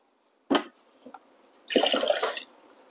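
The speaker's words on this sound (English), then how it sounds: "now I'm going to empty this into the back of the reservoir" Descaling solution poured into the rear water reservoir of a Barsetto BAE 02 espresso machine: a short splash, a faint drip, then about a second of close, steady liquid pouring.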